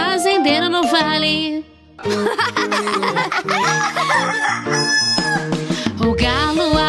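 A rooster crows inside a Portuguese children's farm song, its calls woven into a bright musical backing with singing voices throughout.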